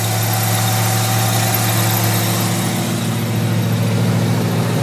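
A 1950 Chevrolet 3100 pickup with a crate motor and dual exhaust idles nearby with a steady, deep, throbbing rumble. The tone stays constant and loud throughout with no revving and no voices.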